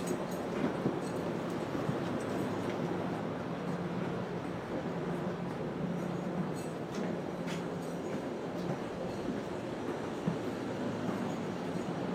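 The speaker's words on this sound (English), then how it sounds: "we washed the train, now we're just putting it back in the spot" A train rolls slowly back into its stabling spot after a wash, giving a steady, continuous rumble and hum with faint mechanical clicks throughout.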